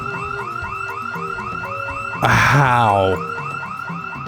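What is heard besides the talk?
car alarm set off in the video game Project Zomboid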